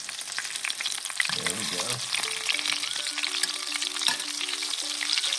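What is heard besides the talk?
mutton snapper fillets frying in a pan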